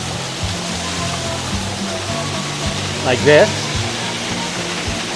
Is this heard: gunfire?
no